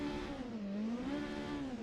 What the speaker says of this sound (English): Revving much higher, redlining at